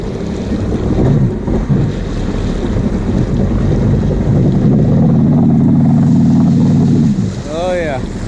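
A Yamaha WaveBlaster 701 jet ski idles loudly with a steady low engine drone, wind buffeting the microphone and a voice breaking in near the end.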